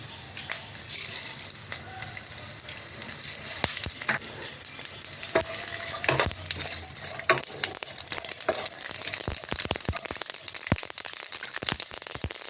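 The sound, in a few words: peanuts and whole mustard seeds frying in oil for sago poha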